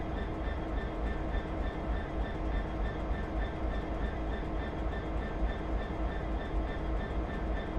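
Class 66 diesel locomotive from Train Simulator 2015 rolling slowly into a siding toward empty freight wagons, a steady loud rumble with rail noise and a faint repeating clatter throughout.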